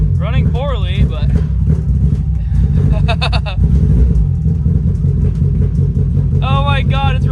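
Mazda Miata engine idling roughly after a throttle position sensor install, a steady loud low rumble throughout, with a person talking in bursts over it.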